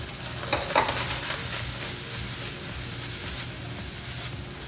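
A chickpea mixture with hot sauce frying in a pan, a continuous sizzle with occasional scraping stirs, close and moderately loud, no voices.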